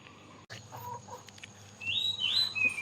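Backyard chickens clucking and calling near a family coop at weekend egg collection, scattered soft clucks under a steady low hum with a higher squawk rising toward the end.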